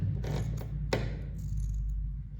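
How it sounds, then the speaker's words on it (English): Sharp scissors snip through T-shirt fabric to cut tassels, a few quick, quiet cuts in the first second over a low, steady background hum. "Here we go, cutting our tassels."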